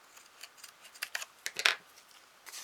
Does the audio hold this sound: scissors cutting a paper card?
yes